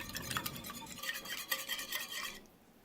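A spoon stirs a lemon juice mixture in a dish for coconut shrimp, giving quick scraping, clinking strokes close by for over two seconds before the sound stops and faint quiet remains.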